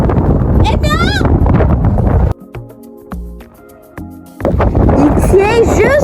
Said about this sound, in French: au lieu de se casser les oreilles avec le vent